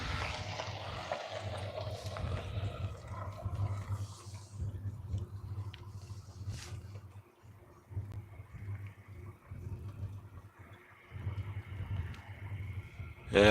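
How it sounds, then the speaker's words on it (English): Road traffic at sunset in Missoula makes a steady low rumble that fills the whole stretch, with vehicles swelling and fading at a moderate distance and no talk over it. "You probably hear this traffic."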